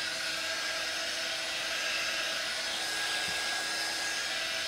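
Hair dryer blowing steadily and close on a chalk-painted bathtub tray made from pallet wood, a constant whirring rush with no pauses.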